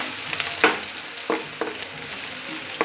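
Onions sizzle in hot oil with golden browned garlic in a pan for Kapampangan miki noodles, a steady close frying hiss broken by a few soft stirring scrapes.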